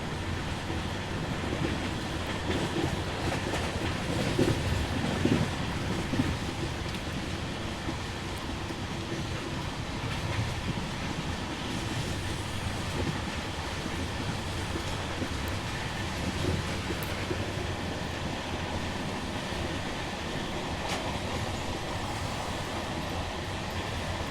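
The SMVT Bengaluru-Mumbai LTT Weekly Express runs at speed, a continuous broad rush of wheels and wind with faint rhythmic clatter, heard from on board without a break.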